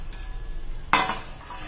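A single metallic clank of a lid set onto a pot of tomato kuzhambu, followed by a brief rattle and faint kitchen hiss.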